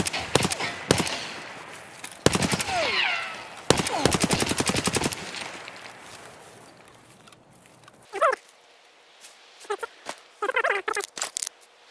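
Bursts of rapid gunfire in Escape From Tarkov crackle in loud volleys, then give way to quieter sporadic noises and short voice-like chirps toward the end.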